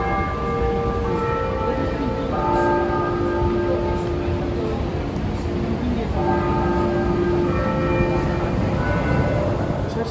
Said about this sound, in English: I think I'm gonna insert a clip of the church bells that were ringing around